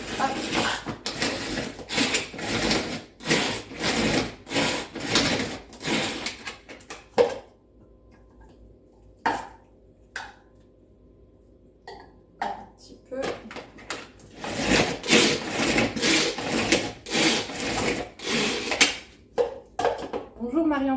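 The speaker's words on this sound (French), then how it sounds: "mes tomates séchées, je les ai placées dedans. Et donc, je vais hacher ça." Manual kitchen chopper chopping sun-dried tomatoes, rapid rattling clacks of the blade mechanism in bursts, close and loud, pausing in the middle while a voice talks.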